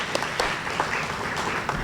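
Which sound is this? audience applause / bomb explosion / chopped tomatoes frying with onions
audience applause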